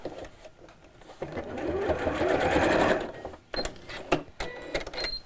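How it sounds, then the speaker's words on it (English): A domestic sewing machine stitches a straight line across the top of a fabric drawstring bag, close to the edge within the seam allowance. It runs in one steady, close burst for about two seconds, then stops, followed by faint handling clicks and rustles. "I'm just going to sew across the top of here, again within the seam allowance"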